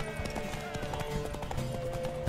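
Horse hooves clip-clopping in The Witcher 3, a rapid run of muffled thuds at a moving pace, with game sounds and a voice over them.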